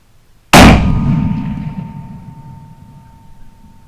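A single loud, close rifle gunshot fired at a coyote on a ranch, a sharp crack followed by a long fading echo rolling out over several seconds.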